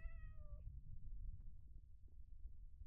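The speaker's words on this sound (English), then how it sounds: "Oh, I heard a meow." A single short meow with a clear harmonic pitch near the start, then quiet rustling and low rumbling background noise.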